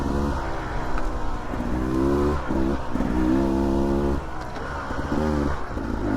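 A Beta 300 dirt bike on bald tires climbing a steep trail in Baumgartner, Idaho: a loud, close two-stroke engine revving and bogging in rising and falling bursts, with no talk.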